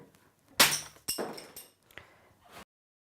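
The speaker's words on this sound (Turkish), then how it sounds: "Gördüğünüz gibi çıta ikiye ayrıldı." Wooden slat covered by newspaper takes a hard blow and snaps in two: a sharp cracking impact, then a second bang with a rustling, splintering tail, and a few smaller knocks and paper rustles before sudden silence.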